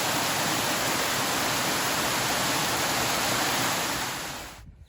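Steady rushing roar of a waterfall on the Foothills Trail, South Carolina, broad and constant, that drops away abruptly near the end.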